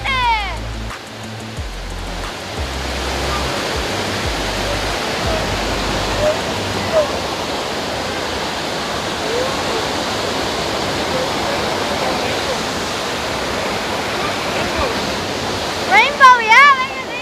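The Rhine Falls in Switzerland, Europe's largest waterfall, thunders with a dense, continuous roar close by, while voices exclaim briefly over it near the end.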